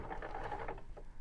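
A BERNINA Q Series sit-down quilting machine runs for a short burst of stitching, with a steady mechanical whir and patter that is moderately loud and close.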